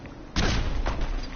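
Grenade explosion in Fallout 4, a sudden loud boom that hits and then rumbles on with a second swell, heard alone.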